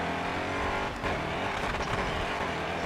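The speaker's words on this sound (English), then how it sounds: "listen to the rumble of the engine" A race car's engine rumbles and roars in the Grid racing video game, a loud continuous drone with a brief surge of revving and tire noise partway through.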